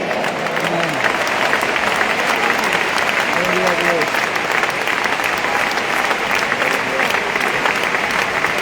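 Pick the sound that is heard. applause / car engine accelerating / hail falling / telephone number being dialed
applause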